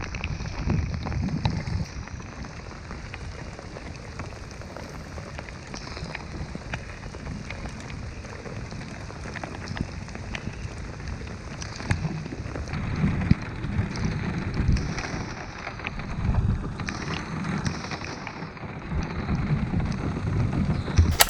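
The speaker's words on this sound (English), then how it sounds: "Couldn't make it there without another downpour in us." Heavy rain downpour during a storm on a Mississippi River trip, with a steady, dense hiss of rain and gusting wind that swells and eases across the whole stretch, with no talking.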